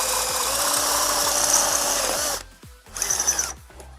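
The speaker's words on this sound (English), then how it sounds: "So let's drill that one in there." A power drill boring a 7/16 hole in metal while installing a TRE air locker: a loud steady whine for about two seconds, then a brief stop and a second short burst of drilling.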